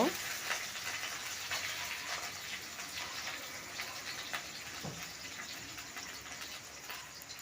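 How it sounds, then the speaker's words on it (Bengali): Chopped onions sizzle steadily in a hot pan as they are stirred, a constant bright frying hiss with occasional scrapes, fairly close and continuous throughout. "এবার কেটে রাখা পেঁয়াজগুলো দিয়ে একটু নেড়েচেড়ে একটু ভেজে নেব।"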